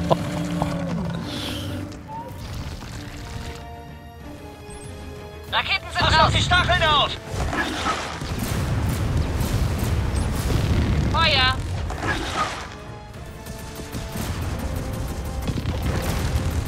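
Rocket launches and explosions in the video game Gears of War 4, with booming blasts and rumbling impacts scattered across a busy battle mix, including roaring creature noises and occasional voices.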